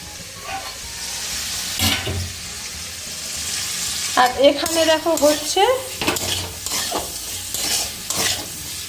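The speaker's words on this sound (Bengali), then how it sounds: "বিনস ভাজা" Beans frying and being stirred in a home kitchen pan for khichuri, a steady sizzle with scraping stir strokes, while someone talks over it.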